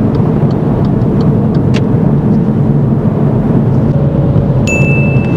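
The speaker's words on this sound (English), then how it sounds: "Come on, engine." A car engine drones loudly and steadily throughout a driving lesson, a constant rumbling hum with a thin whine creeping in near the end.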